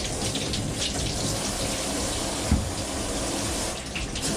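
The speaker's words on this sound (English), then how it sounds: "Wash my apple." Water streams steadily from a kitchen tap as an apple is rinsed under it, a close continuous splash with a brief knock partway through, with no voices.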